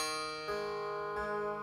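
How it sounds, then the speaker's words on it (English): Tanpura with an unset jawari bridge, giving a dead, plain tone without buzz: steady sustained drone with clear harmonics, two soft plucks renewing it, close and alone. "If you have a Tanpura and it has a dead sound like this"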